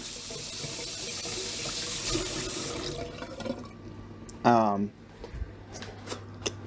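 A tap runs as hands are washed at a kitchen sink. The water gushes loudly at first, then drops to a quieter trickle with a few splashes and small clinks, and a voice speaks partway through.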